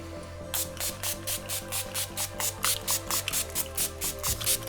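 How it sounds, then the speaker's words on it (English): A rapid series of short, close makeup setting spray bursts onto a face, about a dozen evenly spaced pumps in a steady rhythm, with no talking. "I'm going to set my face now with setting spray."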